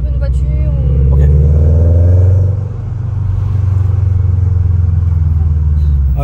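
A car engine revs loudly and close by, a deep, sustained rumble with a rising pitch that eases off past two seconds and then settles into a steady, throaty idle-like drone.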